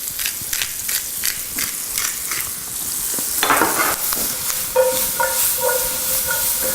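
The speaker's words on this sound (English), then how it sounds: "Just going to give those a flip here in the olive oil, get them all loved up." Pieces flipped in hot olive oil in a pan sizzle and crackle steadily, with scraping stirs and a short hissing burst partway through, loud and close, no talk.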